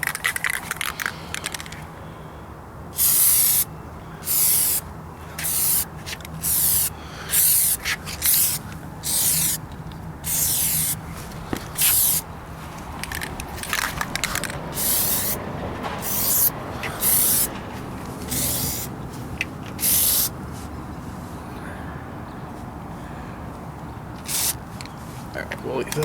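Repeated short hissing bursts of Plasti Dip rubber coating aerosol spray on a Honda Prelude wheel, several seconds apart, over a low background hum with occasional talking.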